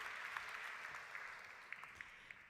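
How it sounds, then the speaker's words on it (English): Applause for award candidates in sustainable development at a hospitality awards ceremony, a steady wash of many hands clapping from a large audience, fairly distant and even throughout with a few sharper claps standing out. "Let's give them another big round of applause"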